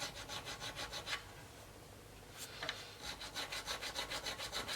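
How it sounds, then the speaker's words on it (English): Rhythmic back-and-forth strokes of a file cutting into a genuine bone nut on a Rockwood Hohner bass guitar, steady rasping passes with a brief pause midway, close and clear with no talking. "I'm going to mark it with a file where I want it to be."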